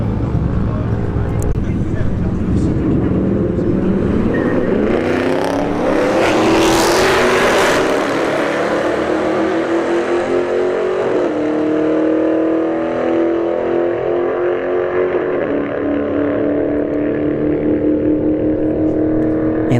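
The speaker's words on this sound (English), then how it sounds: "And the Challenger RT takes the win at 109 miles an hour." A Dodge Charger Scat Pack and a Dodge Challenger RT drag race at a street-heat event at Bradenton Motorsports Park. Loud engine roar builds and sweeps upward as the cars launch and pull away, with a sustained high-revving drone throughout.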